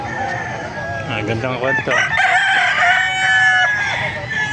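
Gamefowl roosters crowing close and loud, with overlapping drawn-out crows and clucks among the birds, while someone speaks briefly.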